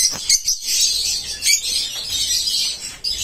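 Lovebirds of a local breed at a farm flock chirping, a dense, steady twitter of high tweets and calls running throughout at close range.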